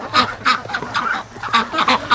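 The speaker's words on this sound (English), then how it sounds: "Oh, ducks." Free range ducks by a lake quack in a quick, irregular run of loud, close calls, several overlapping, with no talk over them.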